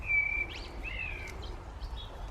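Birds in a quiet garden give a few short, clear whistled notes and chirps, sparse and fairly faint over a low background rumble.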